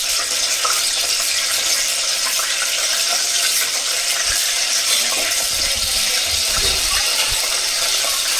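Garlic frying in a pan over an outdoor fire for a crab curry, a steady broadband sizzle holding throughout with occasional stirring clatter and low thumps, no talking.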